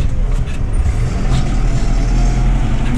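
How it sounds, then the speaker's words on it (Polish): A New Holland tractor drives along a snowy winter road, its engine a loud, steady, close-up rumble with dense low-end drone and no pauses. "Drugi raz jadę tym ciągnikiem tutaj, dzisiaj."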